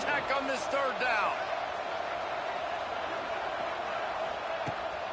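Stadium crowd noise from the College Football 26 video game swells behind a commentator's play-by-play during a Texas Tech third down, a steady broad roar with a few whistle-like tones early on.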